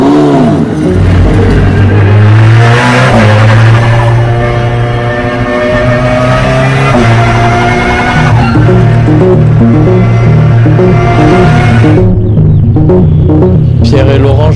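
A race car engine revs loudly on track, its pitch rising and falling through several throttle bursts, with talk mixed in over the engine.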